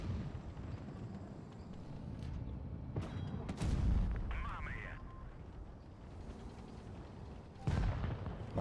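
A tank gun fires in World of Tanks, heavy booms standing out at several points over a steady engine-and-battle rumble, with a voice talking throughout.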